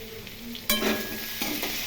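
Grated ginger, green chilies and salt sautéing for elephant foot yam, a quiet frying hiss that jumps into a louder sizzle as the spoon stirs, with another scrape near the end.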